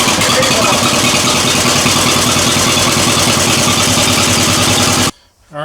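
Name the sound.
John Deere tractor engine cold start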